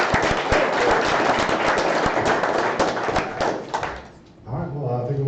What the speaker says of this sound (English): So everybody, please give Patrick a round of applause.